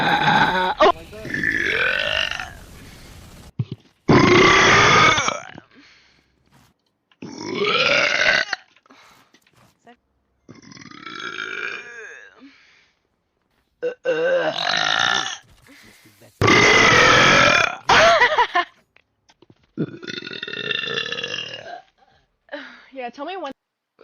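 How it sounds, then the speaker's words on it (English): A series of loud, drawn-out burps, about seven bursts of varying length and pitch separated by short gaps, close to the microphone with some talking mixed in. "That's the only burp you get."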